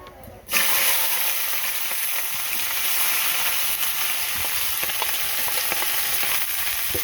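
Bay leaves and green chillies sizzle steadily in hot oil in a pan, a loud continuous frying hiss that starts abruptly and carries on with faint scattered crackles, no talking.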